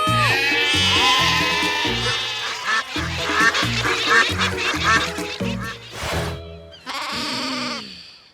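A toy's sheep-lure mode gives off repeated, nasal electronic sheep bleats in a steady pulsing rhythm, loud and close, with a few short wavering calls near the end.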